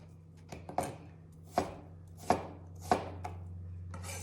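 A knife cutting jicama into French fry shapes on a board, with four or five crisp, evenly spaced chops close by and a low steady hum beneath.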